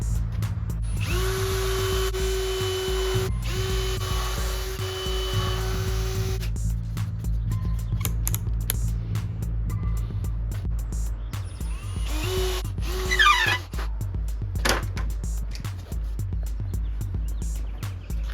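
A power drill bores holes into wooden baby crib posts, its motor whining loud and close in sustained bursts with pauses, clicks and handling knocks between holes.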